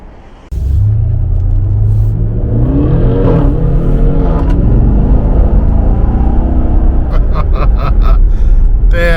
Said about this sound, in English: So let's hear this awesome